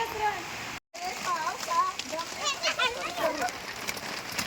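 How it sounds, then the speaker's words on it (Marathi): Rain splashes steadily on a surface while several voices talk and exclaim over it, with a brief dropout early on. "आला रे पावसा आला"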